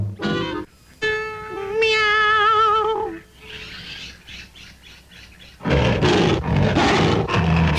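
A cartoon tiger in a Disney English-lesson animation gives a wavering, high-pitched cry, then after a pause a loud, rough, sustained roar that fills the last seconds.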